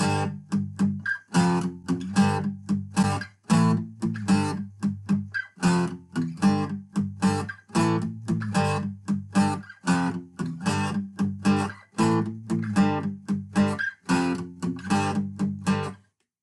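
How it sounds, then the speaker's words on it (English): Electric guitar riff with chords struck in a repeating rhythm, broken up by short, choked palm-muted hits, played alone at steady volume. "you need to do two palm mutes after every time you hit the chord"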